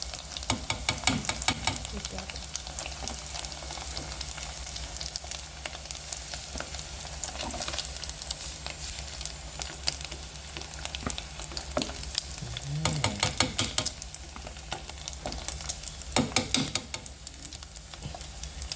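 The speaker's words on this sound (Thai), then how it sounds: "ใครชอบกรอบๆก็ทอด ให้เหลืองกรอบไปเลยนะครับ" Fermented fish (som pla) frying in oil until golden and crisp, a dense, continuous crackling sizzle with scattered louder pops and occasional spoon movements, close by and steady for the whole stretch.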